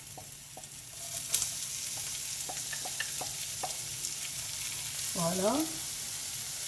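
Garlic, onion and ginger sizzle and fry in a pan over low heat, a steady soft crackle with a few stirring taps, while a voice speaks briefly near the end.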